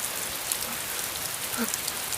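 Heavy pouring rain falls steadily as an even, hissing wash with no breaks, close and moderately loud, with no voices over it.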